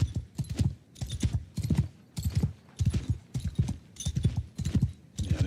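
Horse hooves from the game Warhammer Old Realms, a steady rhythmic clip-clop of paired beats repeating about every half second, close and clear with no talking.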